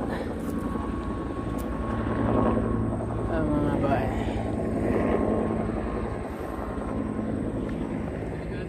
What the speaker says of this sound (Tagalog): May helicopter pa doon.